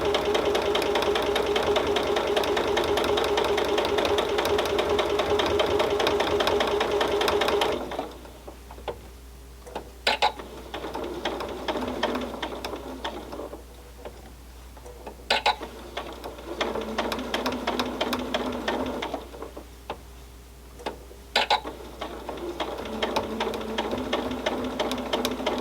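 A sewing machine stitching around a pinned Christmas stocking, running steadily and loud for about eight seconds, then stopping and restarting in short bursts with ticks and pauses between runs.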